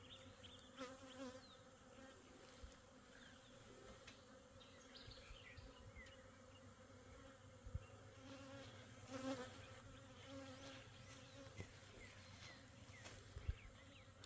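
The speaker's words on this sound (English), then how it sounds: "Honeybee trying to get me." Angry honeybees buzzing in a steady droning swarm around an agitated hive outdoors, individual bees passing close now and then, with occasional faint handling bumps.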